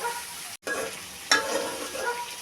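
Taro stolons stir-frying in a pan with onion and shrimp, a continuous close sizzle broken by a brief cut and a sharp scrape of stirring, with no voices.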